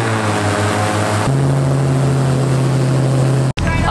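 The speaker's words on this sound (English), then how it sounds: "And we are jumping it straight on to an airboat." A loud, steady airboat engine and propeller roar drones continuously in Darwin, Australia, with a brief cutout near the end before it resumes.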